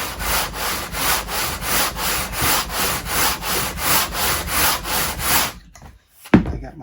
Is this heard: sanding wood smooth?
yes